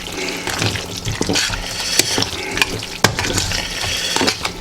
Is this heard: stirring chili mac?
yes